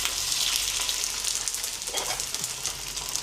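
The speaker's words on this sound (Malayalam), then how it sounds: "അങ്ങനെ എണ്ണ ചൂടായി, എണ്ണയിലേക്ക് ഇതിടട്ടെ." Horse gram sizzles in hot oil, a steady dense crackling frying hiss running throughout at close range with no talk.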